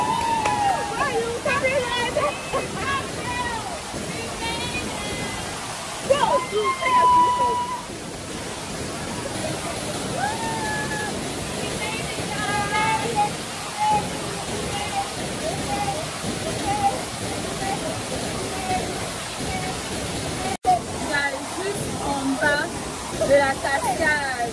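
Aburi waterfall in Ghana, a steady broadband rush of falling water roaring continuously throughout, with people talking and exclaiming over it.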